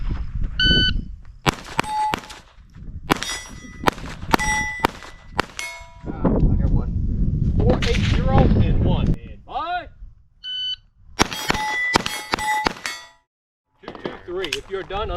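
Pistol rounds in a steel challenge shooting stage ring off steel targets in rapid strings of sharp clangs with ringing tones, loud and close, separated by pauses with a person talking and gear noise.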